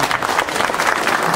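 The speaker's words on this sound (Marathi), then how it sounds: "सगळ्यांनी जोरदार एकदा टाळ्या वाजवून" Loud, continuous applause from an audience at a farmers' agriculture gathering, a dense wash of clapping filling the whole short moment without a break.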